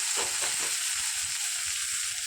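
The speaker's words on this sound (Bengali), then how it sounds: "এবারে কড়াইয়ের মধ্যে আর বাকি যে পেঁয়াজটা কেটে রেখেছি সেই পেঁয়াজগুলোকে আমি দিয়ে দিচ্ছি" Chopped onions fry in a kadai with a dense, steady sizzle and hiss, a few soft stirring thumps near the start, close and continuous.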